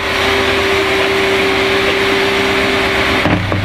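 A Renault 5 Five engine just started and idling with blue smoke, a loud steady drone with a constant tonal hum that cuts off abruptly near the end.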